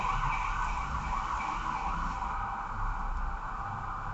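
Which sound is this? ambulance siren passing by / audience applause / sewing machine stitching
ambulance siren passing by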